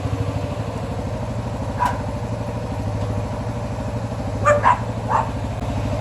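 Three dogs bark in a backyard around a CF Moto 450L ATV: a few short barks stand out over the steady idling engine, with one brief bark early and a cluster of louder barks near the end.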